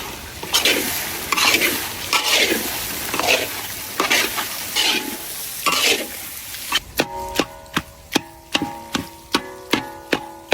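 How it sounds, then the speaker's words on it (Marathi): Onions, thecha, turmeric and Kashmiri red chilli powder sauté in a pan with a soft sizzle and scraping stirs, then a run of evenly spaced metallic taps of a spoon against the pan rim rings out close by, without speech. "हळद टाकून घेऊ, काश्मीरी लाल मिर्च पावडर परतून घेऊ"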